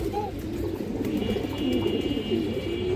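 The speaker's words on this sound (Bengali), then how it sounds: "খুবই সুন্দর একটা কবুতর" Pigeons of an old traditional flying line coo steadily at close range, a continuous low murmuring with a brief higher call near the start and a thin whining tone running through the background.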